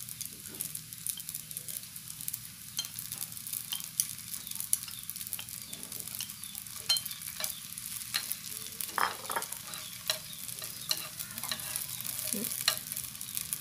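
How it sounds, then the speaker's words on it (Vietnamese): A vegetarian sausage mixture made with tofu skin fries with shallots in a pan, giving a continuous close sizzle with scraping stirring sounds and no talking. "mình sẽ cho cái này vô mình chiên sơ nó nha"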